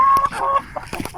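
Free-range chickens cluck in a quick burst of short, close calls, with a rooster-like tone and a few overlapping voices.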